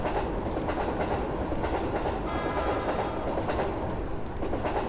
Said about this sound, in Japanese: ついに電車が来ちまった